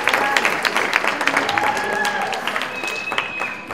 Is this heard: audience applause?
yes